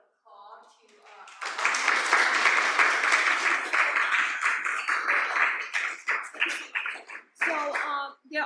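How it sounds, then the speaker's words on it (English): Audience applause at an academic speaker-series talk swells after a brief murmur of voices, sustained dense clapping for several seconds, then thinning into scattered claps with a voice speaking near the end. "Let's give it applause to"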